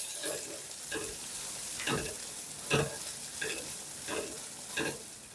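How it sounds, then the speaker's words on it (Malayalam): Garlic and small shallots fry in oil in a pan for pepper chicken, a soft steady sizzle punctuated by about six evenly spaced stirring scrapes, no talking. "അതിൻ്റെ കൂടെ വെളുത്തുള്ളി, ചെറിയ ഉള്ളി. നമുക്ക് നന്നായിട്ടൊന്ന് എടുക്കാം, മൂപ്പിക്കാം"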